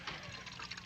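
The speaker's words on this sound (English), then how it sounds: "Pour me a mug of ale, will you?" Ale poured into a mug, a brief faint liquid splash and trickle of steady filling.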